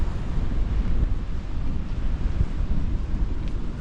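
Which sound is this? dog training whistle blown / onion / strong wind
strong wind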